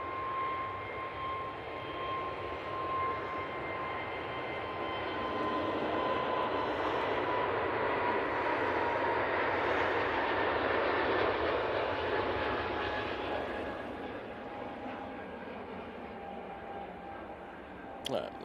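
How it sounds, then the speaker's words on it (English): An EasyJet Airbus A320neo rolls down the runway for takeoff at Manchester Airport. A steady broadband jet roar with a sustained engine whine builds gently and holds, heard from a distance for the whole stretch. "this EasyJet now on the roll"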